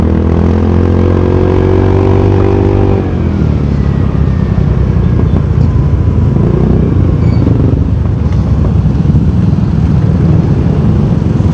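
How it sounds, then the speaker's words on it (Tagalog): Motorcycles and cars sit idling in heavy road traffic, a steady low engine rumble that fills the whole stretch, with a nearer engine droning for the first few seconds before the sound settles into a dense, even mix. "Sobrang traffic na naman mga boys."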